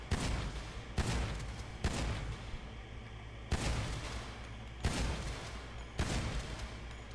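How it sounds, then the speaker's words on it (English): Shotgun blasts in the Grand Theft Auto 5 video game at a shooting range, six loud, punchy shots spaced about a second apart, each followed by a short decaying rumble. "let's try this one more time with the baby, with the little shotgun"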